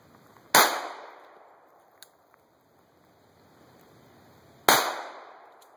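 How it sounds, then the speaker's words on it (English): Two sharp gunshots from a Glock 21 Gen4 .45 ACP pistol, fired outdoors about four seconds apart, each a loud crack followed by a fading echo, with no talking. "Glock 21 Gen 4 45 ACP."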